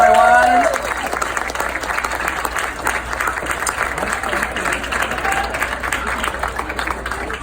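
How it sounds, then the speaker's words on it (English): An audience at an outdoor book festival stage bursts into loud applause, a thick continuous clapping roar that begins with a brief announcer voice and then holds steady throughout. "Give her a round of applause, everyone."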